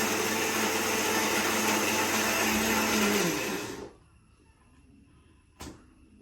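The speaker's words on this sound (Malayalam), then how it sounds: "ഉമ്മ അവിടെ അടുക്കളയിൽ മറ്റെന്താണ് രാവിലേക്കുള്ള അരി ആട്ട് വെക്കണ പരിപാടിയിലാട്ടോ" A wet grinder churns soaked rice into batter in a home kitchen, giving a loud, steady whirring drone for nearly four seconds before cutting off into a quiet room, with one brief knock near the end.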